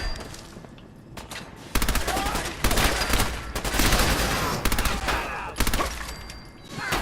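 Rapid bursts of compensated submachine gun fire in Fallout 4, loud automatic volleys in several clusters over a steady background, with sharp crackling reports and brief pauses between strings.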